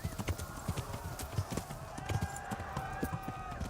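Hooves of a galloping horse in the medieval open-world game Kingdom Come: Deliverance, rapid clip-clop beats in a steady rhythm with occasional whinny-like tones and a faint tonal score underneath, while a player's voice comes in briefly.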